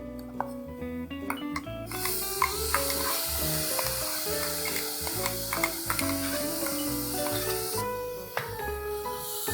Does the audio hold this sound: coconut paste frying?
yes